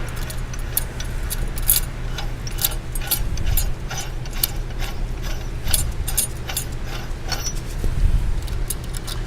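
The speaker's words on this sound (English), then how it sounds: "we're going to take our spanner wrench, go ahead and loosen this nut" A spanner wrench loosens a nut on a stub shaft, giving off repeated sharp metallic clicks and ratcheting clatter over a low mechanical hum, close and steady.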